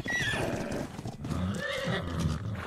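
A horse in the survival game Ark: Survival Evolved whinnies loudly near the start, then its hooves clip-clop steadily through the rest, close and clear with no talking.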